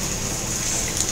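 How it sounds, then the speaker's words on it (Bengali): Milk being poured into shukto, a Bengali vegetable dish with green banana, giving a short, steady liquid gush close by with no talk. "দুধটা এবার আমরা শুক্তোর মধ্যে দিয়ে দেবো,"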